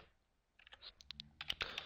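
Quiet keystrokes on a computer keyboard as a web address is typed into an HTML page link: a short pause, then a quick run of light clicks that thickens toward the end.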